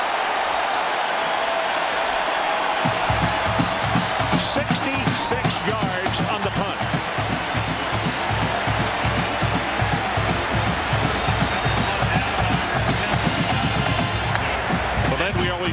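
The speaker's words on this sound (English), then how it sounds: "Listen to this crowd." A stadium crowd at the Oklahoma at Nebraska college football game roars continuously after a long punt, a loud, sustained wash of noise under an announcer's commentary.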